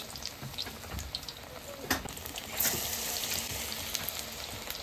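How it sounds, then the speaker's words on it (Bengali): Fritters made from a batter of rice flour, gram flour and black cumin fry in oil, a soft steady sizzle rising a little as pieces are added, with a few faint clicks and no speech. "এক এক করে আমি এরকম করে বড়াটা ভেজে নেব"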